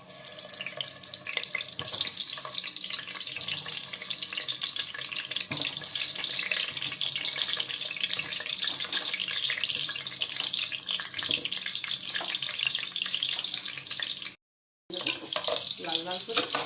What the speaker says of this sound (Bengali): তেলটা গরম হয়ে গেছে, এবার আলুগুলো ছেড়ে দেবো।